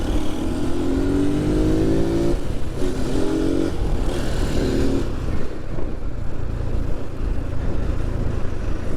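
A Yamaha NMax 155 scooter accelerates on a road near Manavgat, its engine droning as the pitch climbs in two or three rising pulls, under steady loud wind rumble, without speech.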